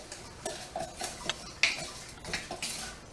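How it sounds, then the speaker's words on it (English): Spoon stirring salt into a flour mixture in a bowl for vegan cookies, a quiet run of soft scraping and light clinks against the bowl, without talk. "I'm just going to stir that together in here."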